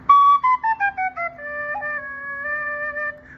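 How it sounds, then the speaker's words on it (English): A seven-hole carbony penny whistle plays a short run of clear, close notes, stepping down in pitch as separate tongued tones and then settling into a longer sustained note, with no voices. "Now, this is a carbony. It's a 7-hole penny whistle"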